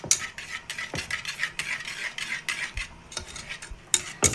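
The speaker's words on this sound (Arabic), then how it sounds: "نبدأ نقلب لغاية ما الشوكولاتة تسيح" A utensil stirs chocolate in a pot as it melts, making a close, repetitive scraping and clinking rhythm with soft sizzling underneath and no voices.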